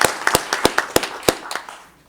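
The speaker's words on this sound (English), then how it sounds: "I think we deserve another round of applause." A council meeting audience gives a brief, thin round of applause: scattered sharp hand claps from a few people that loosen and fade within two seconds.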